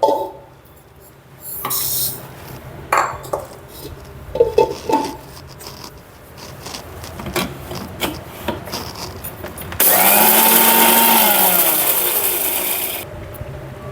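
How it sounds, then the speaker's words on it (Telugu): A kitchen mixer grinder whirring loudly and steadily for several seconds as it grinds roasted spices into powder for a Telugu mango pickle, after some clattering and handling noises. "ఇప్పుడు మనం ఏపి పెట్టుకున్నవి ఇది మిక్సీ చేసుకుందాం పౌడరు"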